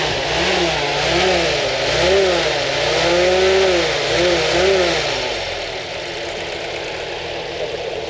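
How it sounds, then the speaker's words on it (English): A close World War II Willys Jeep engine revs in several rising and falling swells over a whirring fan, then settles to a steady idle. "That is the familiar noise which is made by the fan."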